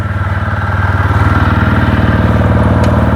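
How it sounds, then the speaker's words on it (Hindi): Motorcycle engine idling steadily right after a cold start in the early morning before a ride, a close, loud, even low rumble with a regular pulsing beat and no talk. "बाइक को कोल्ड स्टार्ट दे दिया।"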